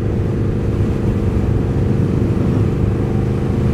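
Triumph Speed Twin 1200 motorcycle cruising on the motorway, a steady loud engine drone blended with heavy wind rush, continuous and unbroken throughout.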